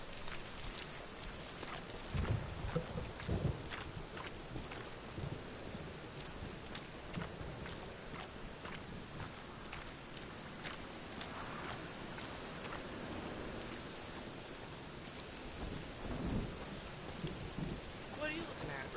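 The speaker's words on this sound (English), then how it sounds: "Rain again." Steady rain pours down with rumbling thunder rolling through a stormy scene in The Witcher video game, a dense, continuous wash of rainfall that stays constant throughout.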